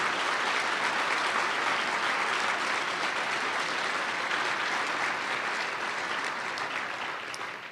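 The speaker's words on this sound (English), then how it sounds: "Please join me in giving them a round of applause" A roomful of people at a business group's annual meeting gives the standing board of directors a sustained round of applause, dense and even, tapering slightly toward the end.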